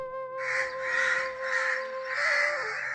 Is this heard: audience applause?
no